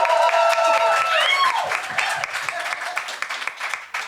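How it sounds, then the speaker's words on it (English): An audience at a live stage show applauds, the clapping continuing under a voice and music, then gradually thinning toward the end. "a bigger applause for Mr. David Innes."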